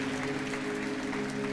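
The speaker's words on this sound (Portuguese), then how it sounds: "Você pode aplaudir ao Senhor por isso?" Congregation at a church service applauding, a steady, moderately quiet wash of clapping that holds evenly throughout with a faint sustained tone underneath.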